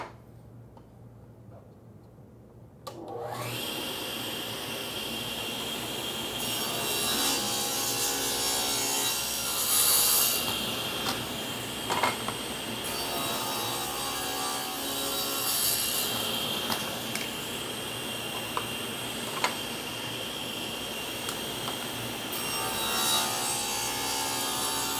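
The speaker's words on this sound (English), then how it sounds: "Now that we're set up, we're ready to mill the grooves" A router mills grooves along wooden rails and stiles for face frame cabinets, starting after a few seconds of quiet and then whirring and rasping steadily through wood, close and loud, with no voices.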